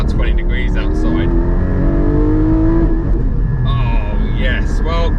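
A Porsche 718 Cayman GT4 with PDK gearbox and Cup 2 tyres accelerates loudly up through the gears, its engine note rising and dropping at a shift, with a voice talking over it.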